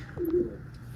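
One short, low coo from a pigeon, close by, against a faint background hum.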